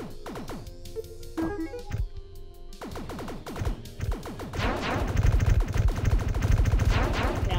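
Weapon gunfire in the game Mactabilis, rapid volleys of sharp synthetic shots in bursts, with a dense, louder stretch of fast automatic fire toward the end, close and dry with no talk.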